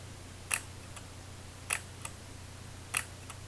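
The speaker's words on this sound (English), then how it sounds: "Shutter does fire." A medium format bellows camera's shutter firing three times, each a crisp, close click spaced about a second apart, with fainter ticks between them over a quiet low hum.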